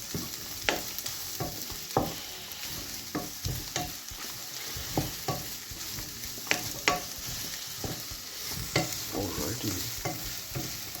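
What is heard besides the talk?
sausages, salami and onions frying in a pan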